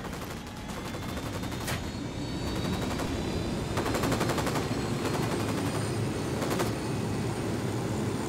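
Automatic gunfire in the video game Ghost Recon Wildlands, rapid bursts of rattling shots repeating over several seconds against a steady, dense background of in-game combat noise.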